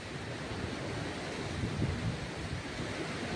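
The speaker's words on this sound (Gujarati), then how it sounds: "પવન વાવાઝોડા જેવો જ ઉતર્યો હા, ફૂલ જોરદાર." Strong gusting wind roars against the microphone, a broad rumbling rush that swells and surges, loud and close with no voices.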